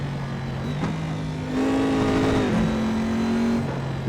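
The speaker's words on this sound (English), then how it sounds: "Rev that out a little too much." Corvette C7R GTE race car in the Assetto Corsa video game, its engine revving up through the gears, rising and dropping in pitch in a loud, close, continuous drone.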